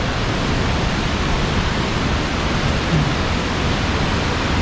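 Khlong Lan waterfall roars as a dense, steady rush of falling water, loud and unbroken throughout with no voices over it.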